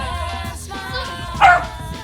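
One brief, fairly close dog bark rises over a steady background of music or tonal sound, with no talking.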